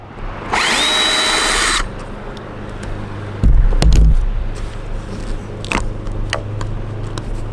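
Power drill backing screws out of a roof vent, with a loud whirring burst, a clunk and a lower grinding spell, then scattered knocks and clicks over a steady background hum.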